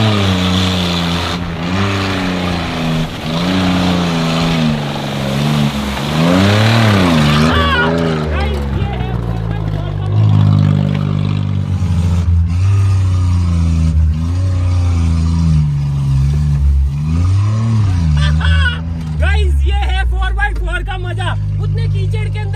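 A car engine labours and revs in four-wheel drive through thick mud, rising and falling in pitch over a long stretch, loud and close, with people talking over it.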